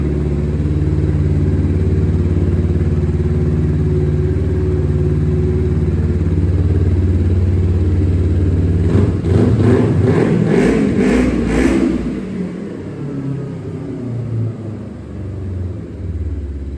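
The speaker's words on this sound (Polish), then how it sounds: "całkiem fajnie to brzmi. Dwucylindrowa jednostka." A Kawasaki Ninja 250 two-cylinder motorcycle engine idles with a deep, loud rumble, then revs in a quick series of throttle blips before settling back down.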